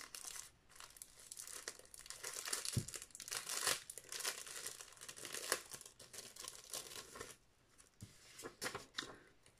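Plastic packaging around a rubber stamp is opened by hand, producing close, steady crinkling and crackling with occasional tearing snaps over several seconds, fairly quiet and uninterrupted by talk.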